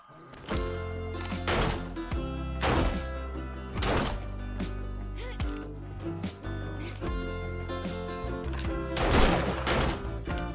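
Gunfire rings out in the survival video game 7 Days to Die as shots are fired at a zombie bear, with several loud, sharp blasts spaced a second or two apart over a booming, reverberant game backdrop.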